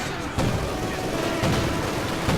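Mortar rounds and gunfire from a Company of Heroes 2 match, with sharp bursts and booming impacts scattered over a dense, noisy battle background at moderate loudness.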